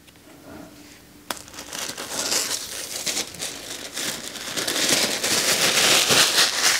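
Protective plastic film peeled from a new 16-inch MacBook Pro M1 Max, a close, continuous crinkling and crackling that grows louder and denser as the film tears free, with no talking.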